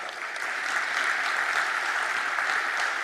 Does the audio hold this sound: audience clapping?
yes